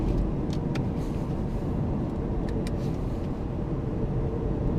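A 2015 BMW i8 Pure Impulse Limited Edition cruising in all-electric, front-wheel-drive mode, heard from inside as a steady broadband rumble of road and tyre noise with no engine note, continuous and fairly loud throughout.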